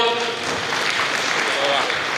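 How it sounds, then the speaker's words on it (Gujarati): Steady, dense clapping from a seminar audience at a Lions Club business event in Savarkundla, loud and continuous throughout with no pauses and a faint voice mixed in. "એકવાર ફરીવાર જોરદાર તાળીઓ"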